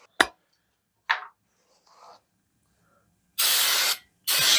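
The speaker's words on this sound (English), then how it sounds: "I'm just going to use regular brake cleaner" Aerosol brake cleaner sprayed onto a two-stroke exhaust pipe: a few short close hissing bursts, then two longer loud spray blasts near the end, with quiet gaps between.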